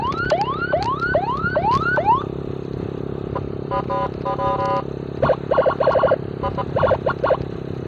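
A Senken 60-watt siren module, tested outdoors, first sounds rapid rising whoops, then switches to sharp, stuttering electronic yelps and bursts, loud and close.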